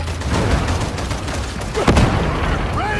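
Grenade detonation and heavy gunfire fill a Warhammer 40k Darktide battle, with loud, continuous rumbling blasts and crackling shots, a deeper boom near the middle, and a voice briefly shouting over the din.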